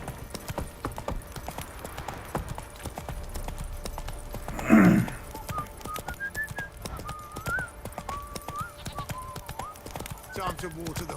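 Rhythmic hoof clip-clop of a trotting horse in the video game The Witcher 3: Wild Hunt, steady and moderately close, with a brief louder burst midway and a thin whistle-like tone running above.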